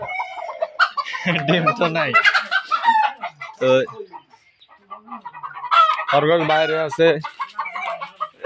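Chickens on a poultry farm with turkeys and ducks cluck and squawk loudly close by, with a rooster crowing in between. A person talks over the bird calls.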